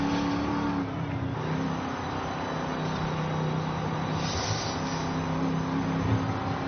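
An Oldsmobile Toronado, a front-wheel-drive US car, drives through a tight series of corners in a racing game, with a steady engine drone and mild revving, moderately loud and without talk.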